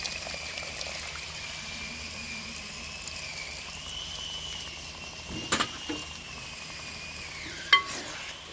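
Water is poured in one go into a pan of tamarind curry with fried tomato, a steady soft liquid wash close by with a couple of brief clatters near the end, no talk.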